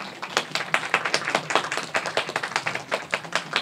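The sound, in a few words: audience applause at film talk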